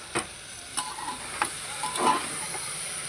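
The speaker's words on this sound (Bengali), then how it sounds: "কতটা ভাজা ভাজা হয়ে গেছে দেখুন" Chopped ridge gourd sizzles in a pan on high flame, with a few distinct scraping stirs of a spoon against the pan spaced across a steady, close frying hiss.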